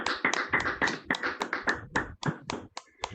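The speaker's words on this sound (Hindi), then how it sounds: "एक बार सभी साथी इससे चाहूंगा जोरदार ताली बजाएंगे।" Audience applause at a Diamond Club business meeting, a burst of many hands clapping together in quick rhythmic claps that thin out toward the end.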